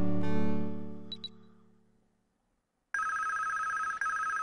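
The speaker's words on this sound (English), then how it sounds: "Oh, day two, the phone's ringing." A telephone rings in the Police Quest 3 video game, a clear electronic ring tone that starts abruptly after a quiet pause and sustains loudly, with a brief break near the end, following fading music.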